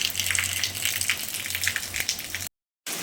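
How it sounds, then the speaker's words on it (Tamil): Steady broadband rushing of water gushing hard from a motor pump, continuous and fairly loud, cutting out abruptly near the end before resuming. "தண்ணி நின்று கீழே போய் தண்ணி தக தக தகன்னு அடிச்சுட்டு பாருங்க"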